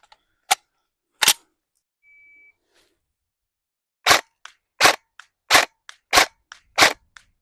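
A Cyma MP5 airsoft replica fires sharp, snappy single shots, two at the start and then five in a quick even rhythm after a pause, close and crisp against near silence.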